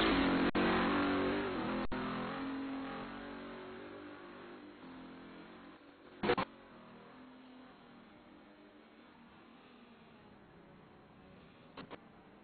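GT Masters race cars lapping a circuit during a 2012 race weekend, engines fading from a loud pass into a distant drone, with short sharp bursts at intervals.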